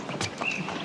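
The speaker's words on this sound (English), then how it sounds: "Gaines, why don't you take those horses over to the hot walker" Horses' hooves clip-clopping on hard ground near a hot walker at a stable, a few quick close knocks within under a second, fairly faint.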